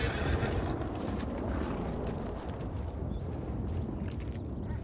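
Horse neighs and whinnies at the stables in a video game, with clip-clop hooves over a steady, loud low rumble of ambient noise throughout, no talk.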